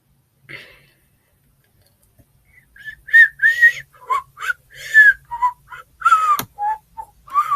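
A person whistles a lively, bouncy tune of short rising and falling notes, clear and close, following a brief faint sound and a quiet pause.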